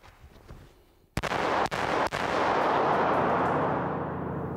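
A handgun drawn from a concealment holster fires several shots, a sharp loud crack followed by two more close reports, then a long, noisy echoing roar that slowly fades.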